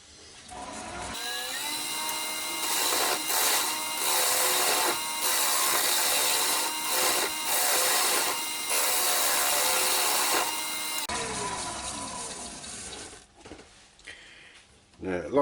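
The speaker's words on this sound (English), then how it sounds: "I'm going back to the old spindle gouge, and nice gentle cuts, and we'll take some wood out." A spindle gouge cuts a small ash bowl on a wood lathe, giving a loud, continuous shearing hiss with rhythmic pulses as the tool passes, then stops as the lathe winds down and a voice talks.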